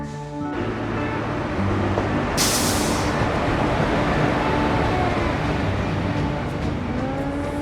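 A Katwa–Azimganj passenger train pulls into Khagraghat railway station, a loud, steady rolling rumble with drawn-out squealing brake tones and a short burst of hissing air early on.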